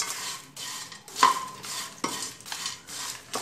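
Biryani masala spices dry-roasting in a pan, stirred with a few sharp scraping strokes over a soft, close, steady crackle, with no voices.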